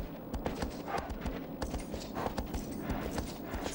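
Horse hooves clip-clop at a steady walking rhythm in the Shadow of the Colossus video game, close and continuous, with no talk over them.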